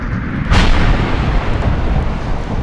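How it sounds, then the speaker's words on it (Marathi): A kitchen gas explosion tears through a bungalow with a sudden loud boom, then a dense roaring rumble that continues without letting up. "स्फोट झाला तो प्रचंड होता"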